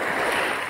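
Sea waves wash in at night along a shore near a seaside eating area: a soft, continuous hiss of water, fairly quiet and even, with no one talking.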